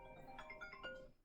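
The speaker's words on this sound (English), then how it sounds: "that was my phone ringing" A phone ringtone chimes during a home math lesson on fractions, a short melodic run of tones, fairly faint, with no talk over it.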